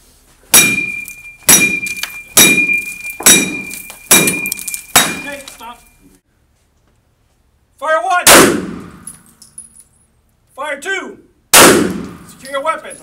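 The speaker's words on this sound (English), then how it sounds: "you can hear the continuous cracking of the glass as the energy is absorbed by the adhesives" Hard blows land on bullet-resistant laminated glass: a run of loud, close, evenly spaced thuds, each followed by crackling, then a pause and a few more heavy hits with continued cracking. Voices may be heard between hits.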